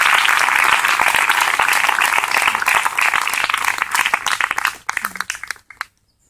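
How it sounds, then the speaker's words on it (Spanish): Congregation applauding during a Spanish-language church service: loud, sustained clapping from many hands that thins into scattered claps and then stops. "Denle un aplauso al Señor en esta preciosa y linda oportunidad"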